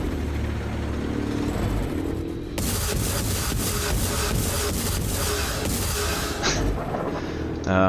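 An LAV vehicle explodes in the video game Dust 514 as a loud sustained burst of rumbling blast and crackle that breaks out midway over ongoing battle noise and stays dense to the end.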